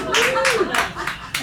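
A comedy show audience claps in a few brief bursts, moderately close, mixed in with a performer talking.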